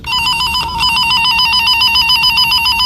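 A continuous electronic warbling tone, like a trilling phone ring, from a wire tracker tester, loud and steady with no talk.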